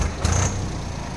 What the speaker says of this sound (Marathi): ही आहे मित्रांनो 744 XT या ट्रॅक्टरची फायरिंग